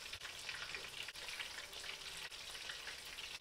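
Pieces of tilapia deep frying in a fryer, giving a dense, continuous crackling bubble of hot oil at moderate closeness, with a few faint clicks and no voices.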